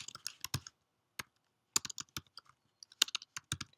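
Close, irregular keystrokes clatter on a computer keyboard in quick clusters with brief pauses between them, crisp and isolated against near silence, with no voices.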